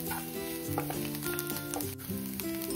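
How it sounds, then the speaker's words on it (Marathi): Grated carrots sauté in ghee for carrot kheer, a soft continuous sizzle close by, with sustained background music tones running underneath and no speech. "गाजर छान असं परतून घेतलाय तुपावरती"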